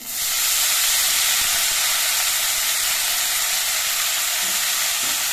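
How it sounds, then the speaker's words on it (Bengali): Mustard flowers fry in a pan over a low gas flame, giving a steady, close, even sizzle and hiss that holds throughout with no voices. "সর্ষে ফুল দিয়ে নিয়ে এবার কিছুক্ষণ সময়ের জন্য একটুখানি ভেজে দিচ্ছি"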